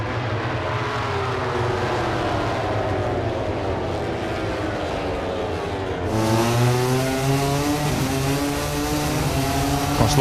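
MotoGP racing motorcycles at the 2024 German Grand Prix passing at around 190 km/h, loud high-revving engine whines rising and falling in pitch as bikes scream past, a second machine joining with a sharper, nearer roar.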